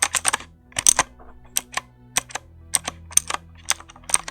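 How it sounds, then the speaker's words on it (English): Retro clicky switches and keys on a Critical Machine automatic dice roller are pressed in quick, crisp close-up taps, some in fast pairs and others spaced out, with no voices. "That is a lovely click sound"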